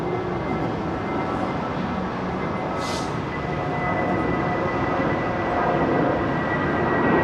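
An airliner departs from Heathrow runway 09R, a heavy jet roar building gradually and staying loud and rumbling throughout.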